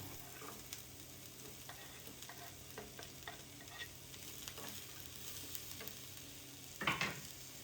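A peanut chutney mixture with onions fries and is stirred in a pan, making a continuous low sizzle broken by repeated scraping strokes and a sharper clatter near the end, with no talking.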